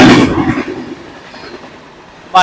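A fast train passes close by while another train waits at a station in the evening, a loud rumble fading quickly into a distant roar, then a sharp burst at the very end.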